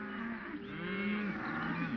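A herd of white-faced cattle moos steadily at close range, several overlapping low bellows running together with no pauses.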